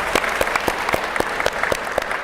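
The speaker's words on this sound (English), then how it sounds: "Let's give them a round of applause for." Panel audience applauds local election officials with a thinner, scattered clapping, individual sharp hand claps standing out in a loose rhythm over a softer crowd bed.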